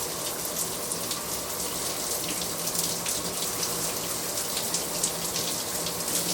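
Running tap water splashes steadily while a sulfate-free shampoo bar is lathered under it, a close continuous patter and hiss with soft squelchy rubbing and no voices.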